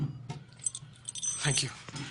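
A bunch of keys jingles and rattles as it is handed from one person to another, close and bright in short bursts, with a brief spoken thanks and some movement around it.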